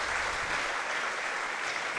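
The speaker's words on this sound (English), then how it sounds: "applause there from the crowd" Steady crowd applause fills the stands at the Potts Classic 2024 athletics track and field meet, a continuous dense wash of clapping heard from a distance without a break.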